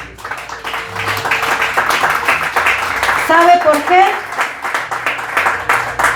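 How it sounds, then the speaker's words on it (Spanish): A church congregation claps together in praise during a service, sustained clapping running under a loud preacher's voice and a brief vocal flourish. "Así que denle una ofrenda de palmas al Señor."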